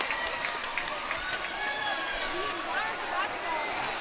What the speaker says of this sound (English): Trying to get the home crowd fired up